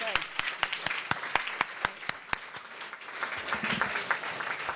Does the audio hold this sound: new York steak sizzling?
no